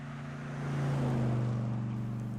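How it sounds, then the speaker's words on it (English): An old truck rumbles along a country road with a steady low engine drone that swells slightly and then holds, heard alone without voices. "Anton let the sound of the old truck fade away."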